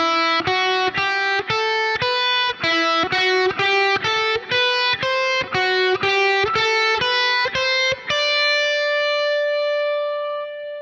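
An electric guitar picks a quick run of single notes up and down a scale pattern, evenly spaced, ending on a sustained ringing note.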